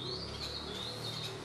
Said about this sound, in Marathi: आता खरं तर इथं पक्षी एवढे आवाज करत आहेत बघा